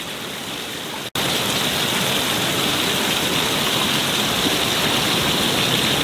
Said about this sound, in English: That's the falls right there